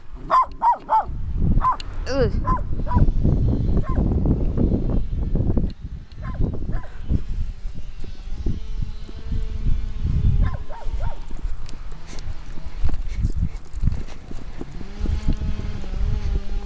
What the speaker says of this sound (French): là il y a les chiens qui aboient là encore et toujours